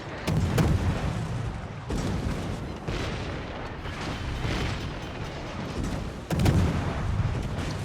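Heavy naval gunfire from a World of Warships battle, with loud booming volleys near 0.5, 2, 3 and 6.3 seconds over a constant rumbling roar of distant explosions and battle noise.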